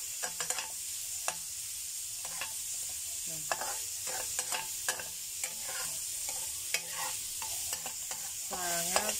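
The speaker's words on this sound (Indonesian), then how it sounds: "Kita goreng agak kekuningan gitu aja, lalu angkat." Steady sizzling of shrimp and egg frying in hot oil, with intermittent scraping and stirring clicks and a brief voice near the end.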